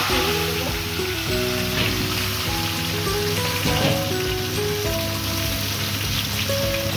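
Salted, turmeric-coated raw mango pieces fry in hot oil with dried red chilli and bay leaf, giving a loud, steady, dense sizzle that runs without pause, with faint stirring beneath.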